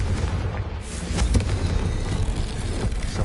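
A fiery explosive spell cast in the Hogwarts Legacy video game booms out, a single rumbling blast with a long, dense low-end roar that lingers through the whole moment.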